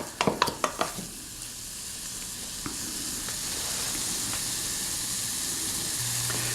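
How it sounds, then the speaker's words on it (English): Chopped onion and broccoli sautéing in a pan over low heat, opening with a few quick clatters of a utensil before settling into a steady, soft frying sizzle close by. "The onion's not going to be in the omelet mix long enough for it to cook, so that's why I'm trying to saute it."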